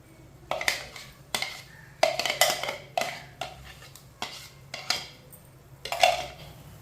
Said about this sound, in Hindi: जो हमने मसाला तैयार किया वो डाल लेंगे चनों में।